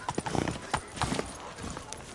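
Hooves of Geralt's horse Roach galloping in The Witcher 3 video game, a quick clip-clop patter mixed with game voices and background noise.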